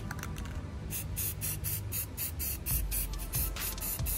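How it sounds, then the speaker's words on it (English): An aerosol can sprays paint in short repeated bursts onto unpainted, non-pressure-treated wood around greenhouse window hinges. The hissing bursts are close and loud over a low background rumble, with no talk. "So I'm gonna spray paint those little areas really quick because I don't want them to rot"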